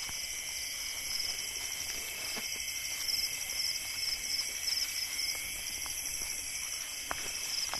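Many crickets and other insects chirp in a dense, continuous high trill outdoors at night, steady and fairly near, with faint rustling underneath and no talk.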